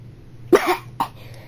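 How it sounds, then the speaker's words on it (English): A single sharp, close cough comes first, then a shorter second cough follows about half a second later, both over quiet background hum. "Got a cough."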